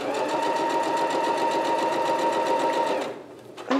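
A sewing machine hums and chatters steadily, stitching fabric along a diagonal line, then stops abruptly near the end, followed by a brief handling noise.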